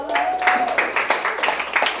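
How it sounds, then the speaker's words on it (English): Brief burst of audience clapping and applause at a live event, a few scattered claps rising and falling over about two seconds, with voices and crowd noise mixed in. "Clap it up for him."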